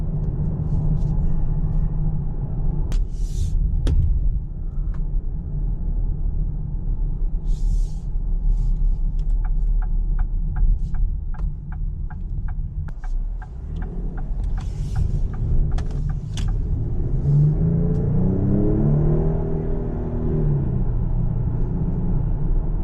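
A Ford Platinum SUV drives and accelerates on the road, with a continuous low rumble of engine and tyres, a rising engine note near the end and brief clicks and ticks inside the cabin.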